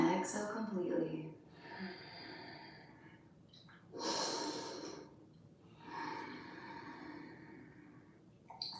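A deep, complete exhale during a live yoga session, with long airy breaths swelling and fading in slow waves, close to the microphone and fairly quiet.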